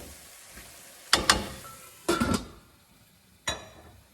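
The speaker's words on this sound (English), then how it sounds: "we got to occasionally keep stirring the potatoes" Boiled potatoes coated in besan (gram flour) are stirred in a pan for capsicum and potato sabzi, giving three short scraping, clattering bursts with quiet pauses between.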